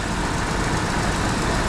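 A 2014 Chevy Cruze engine idling after an air intake manifold and A/C compressor replacement, a steady, dense, unbroken rumble and hiss, loud and close, with no voices.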